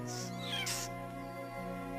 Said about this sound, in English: who could resist an adorable little leopard cub like you?